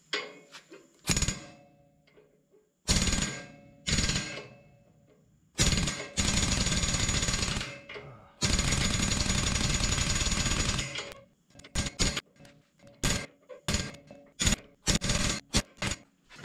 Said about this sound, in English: so I've got to put a smaller hammer on the end